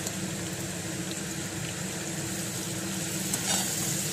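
Chopped onions fry with homemade turmeric in a pan, a steady close sizzle that holds evenly throughout with no talking.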